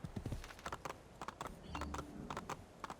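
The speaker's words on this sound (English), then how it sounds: "Use WASD to steer your horse." Horse galloping in Assassin's Creed II, a rapid rhythmic clip-clop of hooves with a brief low rumble midway, close and steady.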